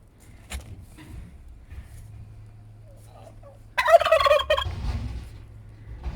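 A turkey lets out a loud, rattling gobble partway through, after quiet background noise and a few faint knocks.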